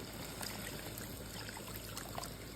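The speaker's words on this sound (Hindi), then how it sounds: "अब इसके अंदर हम ऐड कर देंगे पानी" Water is poured into a pan of roasted spices for a bottle gourd curry, a soft, steady trickling and splashing that stays faint and continuous throughout.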